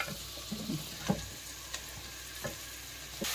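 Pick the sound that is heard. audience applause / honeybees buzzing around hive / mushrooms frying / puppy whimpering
mushrooms frying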